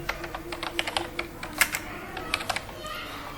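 Rapid clicking of a computer keyboard as text is typed into an Excel cell, an uneven run of close, crisp keystrokes over a low steady hum.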